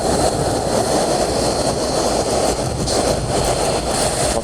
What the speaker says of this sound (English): Got that strong cross-shore wind.